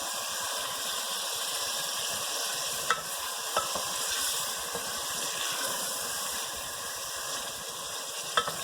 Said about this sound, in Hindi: इसे हमें इतना पकाना है कि इसका कलर चेंज हो जाए और लहसुन अदरक में खूब अच्छी तरीके से हम इसे भून लें।